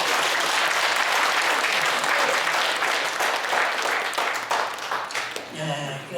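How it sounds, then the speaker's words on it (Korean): At a Korean senior citizens' association year-end party, a hall audience breaks into loud sustained applause that fills the room, then thins out and fades near the end. "그 참지를 못해서 또 한 번 박수를 드리겠습니다"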